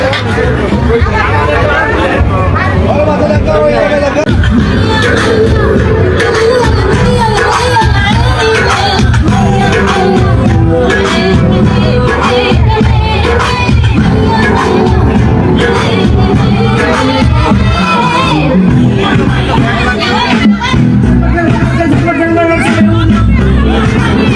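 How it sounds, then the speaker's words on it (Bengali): Dense crowd babble at a busy Nila Market food stall serving duck meat with chapati, a loud continuous hubbub of many overlapping voices close by. "দোকানে প্রচুর ভিড়।"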